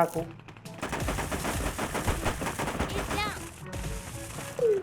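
Gunfire in the cartoonish battle-royale game Sausage Man comes as rapid, close automatic bursts that rattle almost continuously, with a brief pause before a final loud volley.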